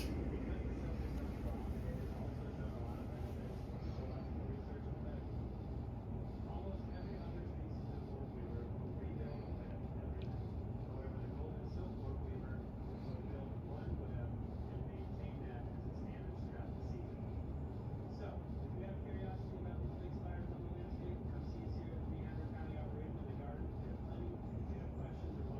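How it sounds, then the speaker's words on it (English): A 28-inch Monte Carlo Colony II ceiling fan spinning down, giving a steady, low mechanical whir with airy rushing that holds evenly throughout, with no sharp sounds standing out. "we're gonna go ahead and do spin down."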